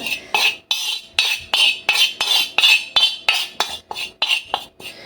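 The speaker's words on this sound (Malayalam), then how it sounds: "പാത്രത്തിലിട്ട് കുറച്ച് സമയം നമുക്ക് ഇളക്കിക്കൊണ്ടിരിക്കണം" Rhythmic metallic scraping of a spoon stirring turmeric roasting in a pan, about a dozen quick strokes in a steady, close pattern.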